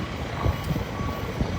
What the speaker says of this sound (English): This truck is now backing up to the scene here